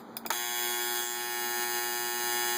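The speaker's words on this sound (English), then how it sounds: "Let's see if the alarm actually works." A vintage 1978 Copal flip clock's alarm buzzer drones steadily and loudly after a few short clicks, a continuous electric buzz with a strong mains-like hum that holds unbroken to the end.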